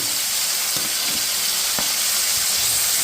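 Onions, garlic, green chillies and curry leaves fry in hot oil for a fenugreek leaf and tomato fry, giving a steady close sizzle with a few soft clicks of stirring and no voices.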